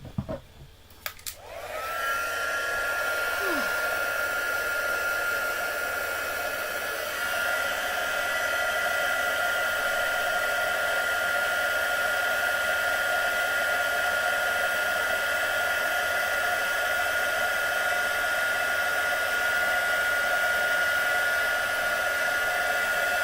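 Crafting heat tool blowing hot air over papercraft on a work surface, switched on after a brief click and then a steady, loud whirring blower hiss that holds unchanged for about twenty seconds.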